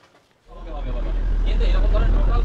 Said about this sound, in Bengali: ট্রলার তো না, লঞ্চ।